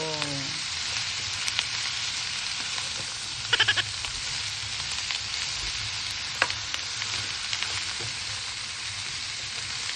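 Radish (labanos) sautéing in a hot pan before sardines go in, a steady loud sizzle and crackle running throughout with a few brief stirring clinks.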